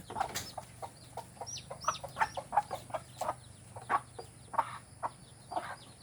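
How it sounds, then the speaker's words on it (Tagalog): Native chickens and their chicks cluck in short, repeated calls close by, a steady string of soft clucks over a faint background hum. "Ayan po, nanunukuha yung ating mga bagong sisiw po."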